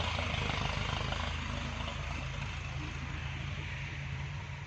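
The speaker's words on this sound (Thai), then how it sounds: "ตรงนี้รถไถก็กำลังดันดินให้เราอยู่นะคะ" Steady diesel engine drone of a tractor pushing and levelling filled soil at a small farm, a continuous, fairly distant low hum and rattle with no voices.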